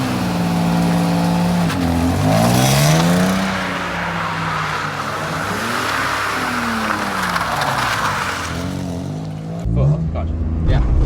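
Car engine revving and droning during a drift session, with the pitch rising and falling in long sweeps under close interior engine noise; people talk over it inside the car.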